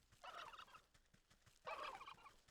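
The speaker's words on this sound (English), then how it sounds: "Turkeys." Two loud gobbles from turkeys in the video game Wytchwood, each a rapid warbling burst about half a second long, separated by a short pause and heard close without any talking.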